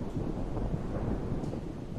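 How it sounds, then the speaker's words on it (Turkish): A steady low rumble of thunder and rain washes over a stormy night in the zombie survival game Project Zomboid, continuous and fairly close with no voices. "Dışarıda fırtına kopuyor bu arada."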